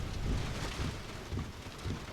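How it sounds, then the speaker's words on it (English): Dense, steady drumming of heavy rain on a parked van's metal roof during a storm in the Peak District, a continuous close hiss with low rumbling swells. "yeah, that rain's really coming down."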